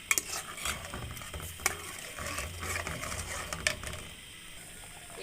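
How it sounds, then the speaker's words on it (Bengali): A pot of potato curry with water added bubbles on the stove, a soft low simmer and sizzle punctuated by several sharp clinks of a utensil against the pot, fairly quiet and without speech. "এইদিকে আলুর ডালনা বলক চলে আসছে"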